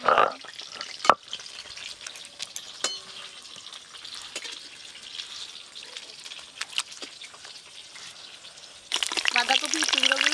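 Cabbage pieces and coriander leaves fry with spices in hot oil, a steady crackling sizzle broken by sharp stirring clicks and scrapes, swelling into a louder, fuller sizzle near the end.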